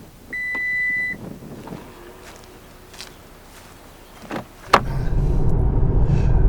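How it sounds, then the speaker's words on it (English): A Lexus UX gives a short electronic beep and a few soft cabin clicks, then its engine comes in with a sudden rise to a steady, close rumble as the car starts to drive away. "and let's take it for a drive."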